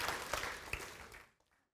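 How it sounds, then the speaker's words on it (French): A church congregation applauds at a French-language service, a quiet, distant round of clapping that tapers off and fades to silence near the end. "Encore une fois, bonne main d'applaudissement"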